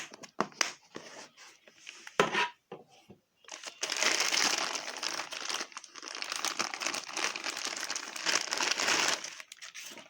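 A plastic bag wrapped around a Zoraki 2918 blank pistol crinkles as it is unwrapped, first in short separate bursts, then in a longer stretch of close, busy rustling and crumpling.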